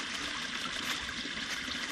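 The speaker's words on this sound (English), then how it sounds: "this is the top of the waterfall" Creek water flows at the top of a waterfall in Hoosier National Forest, a steady, close hiss with a constant wash and no breaks.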